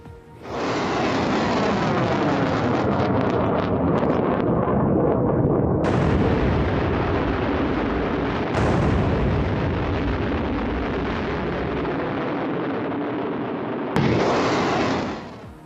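A huge gravity bomb explosion roars and rumbles for many seconds, loud and close, broken by a few abrupt cuts.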